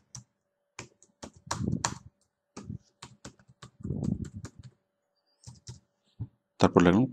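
Someone types on a computer keyboard in quick bursts of crisp, close clicks separated by short pauses, with a voice speaking between some of the bursts.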